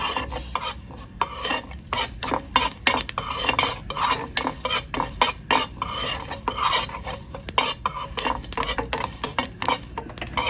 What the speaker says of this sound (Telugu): కొంచెం జీలకర్ర ఈ దోరగా వేయించుకోవాలి